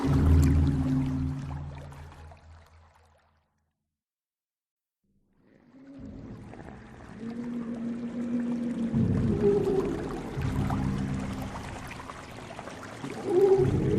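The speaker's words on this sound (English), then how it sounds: "Fuel pouring into the decks from the drums on the deck." Fuel pours and gushes from drums into the decks of a damaged ship, loud sloshing and groaning surges that fall away to near silence before swelling again with creaking, churning flow.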